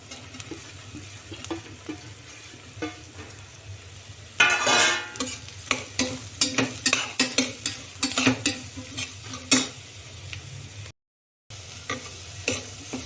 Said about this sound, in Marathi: कांदा थोडा तळला गेला आहे जास्त कांदा तळू द्यायचा नाही